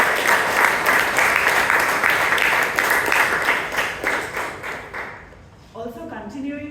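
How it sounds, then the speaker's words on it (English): Audience applause at a Toastmasters club meeting in Bangalore, a dense wash of clapping that holds steady for about five seconds, then thins and fades as a voice begins speaking. "Can we have a big round of applause for her?"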